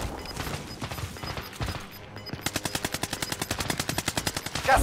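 Video game gunfire: scattered shots give way to a fast, loud automatic burst of evenly spaced rounds.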